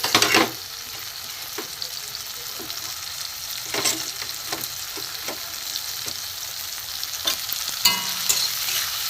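Spices including salt, turmeric, chili powder, cumin-coriander powder and chaat masala frying in a pan for egg patties, a steady hissing sizzle with scattered scraping stir clicks, close and alone.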